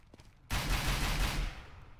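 A sudden, loud burst of sustained gunfire erupts in the CS:GO video game, roaring for about a second before cutting off.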